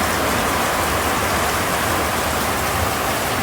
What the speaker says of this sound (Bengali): ঝুম বৃষ্টিতে টিনের চালে ঝুম বৃষ্টি পড়ছে